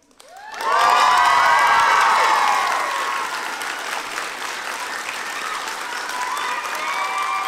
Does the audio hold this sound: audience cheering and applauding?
yes